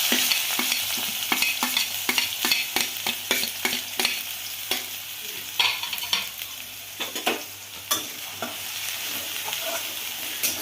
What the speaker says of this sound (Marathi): आता कांदा भाजून घ्यायचा